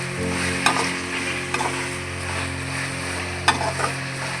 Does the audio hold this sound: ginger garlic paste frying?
yes